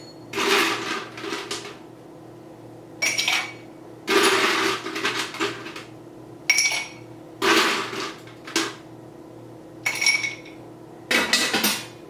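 Ice goes into an Old Fashioned cocktail with chocolate bitters: a series of separate clattering clinks and rattles in irregular bursts, close by, with quiet gaps between them.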